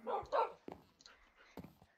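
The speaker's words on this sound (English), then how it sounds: "Now I have Ivy and this other dog." Dog barks in the Minecraft video game, a couple of quick yippy barks followed by softer scattered yips and whimpers, close and clear with gaps of silence between.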